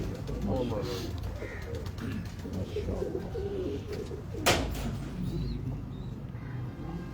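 Pigeons coo in soft, repeated low murmurs close by, running under steady background noise with a brief sharp burst midway and no clear talk.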